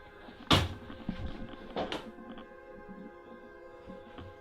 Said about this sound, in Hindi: ये दरवाजा अपने आप ही हिल रहा था।